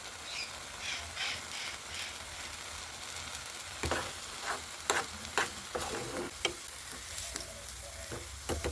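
Onions and lentils frying in a pan for masoor dal bharta, a steady low sizzle broken by a run of sharp utensil scrapes and clicks as the mixture is stirred, close by with no talking.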